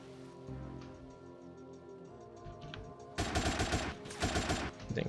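AK rifle fire in a GTA game sounds as two loud bursts of rapid automatic shots near the end, following a quieter stretch of game ambience.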